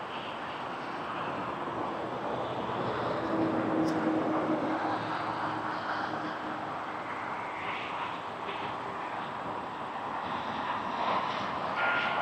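An Air Canada A320 airliner arriving from Ottawa on approach to Toronto Pearson, a steady distant engine roar that swells gently and holds, with low background rumble.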